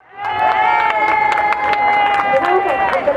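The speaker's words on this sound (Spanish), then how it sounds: "Zaida Meneses Marín, por favor, un fuerte aplauso" A crowd at a 10k running race claps and cheers for a runner in a sustained burst of applause, loud and close, with an announcer's voice heard over it.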